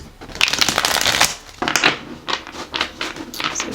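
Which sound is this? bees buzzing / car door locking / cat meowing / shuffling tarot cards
shuffling tarot cards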